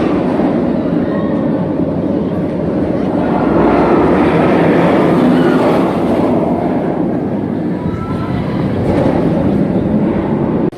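Roller coaster trains running at Busch Gardens Tampa, a loud, continuous rumbling roar of wheels on track that swells and eases over about ten seconds, with faint clattering and no clear speech.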